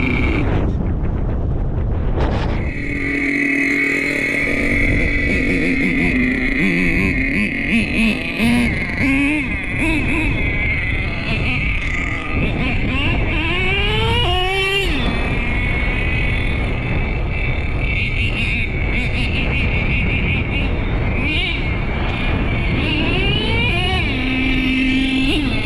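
A Traxxas T-Maxx nitro RC truck with an OS .18 TM engine and RD Logics dual pipe runs close by, its loud, high-pitched buzzing whine rising and falling in pitch as the throttle is worked.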